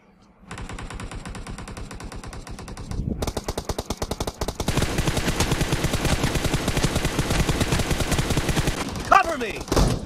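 An M4 rifle in PUBG Mobile fires on automatic in long, rapid, loud bursts that continue almost without pause, with a voice briefly heard among the shots.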